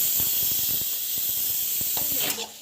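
Ground onion paste sautéing in a pan gives a steady close hiss and sizzle, with soft scraping stir taps scattered through it and no talk.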